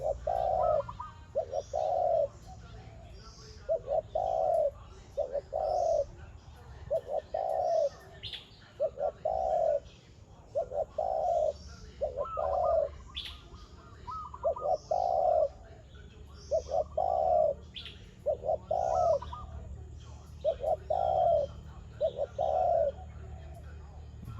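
Wild birds call repeatedly outdoors, a steady series of soft hooting coos with scattered chirps and tweets behind, moderately distant.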